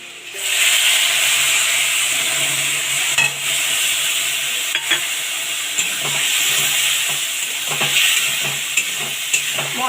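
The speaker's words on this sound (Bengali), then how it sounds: "মশলাটা দিয়ে 3-4 মিনিট কষিয়ে নেব" Spice masala frying in oil with potatoes, bay leaves, dried red chillies and whole cumin for a Bengali banana-flower ghonto, a continuous close sizzle with repeated spoon scrapes and stirring clatter against the pan.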